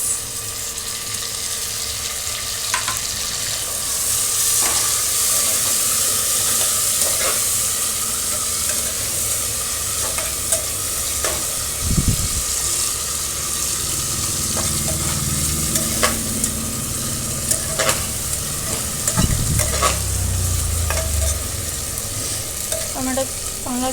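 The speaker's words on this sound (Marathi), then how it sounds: "या ठिकाणी आपला का कांदा चांगला गोल्डन ब्राऊन होत आला आहे या ठिकाणी आपण टाकणार आहोत टोमॅटोचे बारीक कट केलेले केसेस" Finely chopped tomatoes added to golden brown onions frying in a pan for aloo matar pulao, with a steady hissing sizzle, occasional stirring scrapes and a few louder splashes, no voices.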